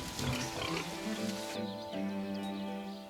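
Cénomans farm pigs grunt and squeal in short overlapping bursts, fairly close and moderately loud, with a few higher calls mixed among the low grunts.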